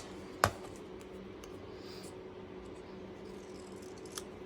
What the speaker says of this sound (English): Now I can clean it up with my scissors.